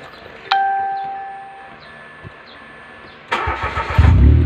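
A 2017 Mitsubishi Mirage hatchback with keyless start gives a bright electronic chime, then after a short quiet pause its engine cranks and catches into a loud, rough idle close by.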